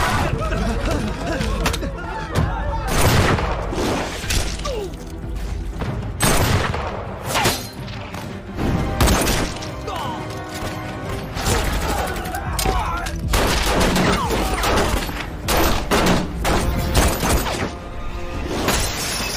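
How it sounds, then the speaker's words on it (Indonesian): Gunfire crackles through a film shootout between two armed factions, with dense bursts of shots, booms and shattering impacts layered over a busy score, continuous and loud for the whole stretch. "penyerangan dimulai hingga kedua kubu terlibat bentrokan senjata"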